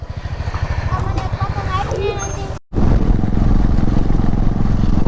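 Royal Enfield motorcycles, one Himalayan and two Thunderbird 350s, idle together with a loud, pulsing single-cylinder thump, close by. People talk over the engines, and the sound cuts out briefly partway through.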